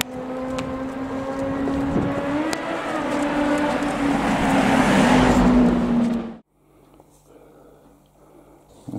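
Road traffic: cars pass close by with a loud engine hum and tire rush that builds and holds, then cuts off abruptly into quiet street background.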